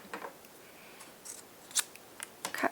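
Scissors snip through marbled paper for a handmade greeting card, a handful of crisp, close cuts spaced irregularly over a quiet background.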